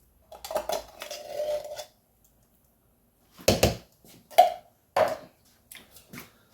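Pumpkin puree spooned into a soup pot, heard as a scrape and then several separate clinks and taps of a spoon against the pot, spaced apart and close by.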